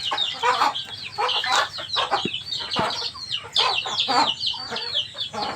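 A hen clucks among her chicks on a farm, with low rhythmic clucks mixed with many high, busy peeps from the chicks, close and fairly loud throughout, without speech.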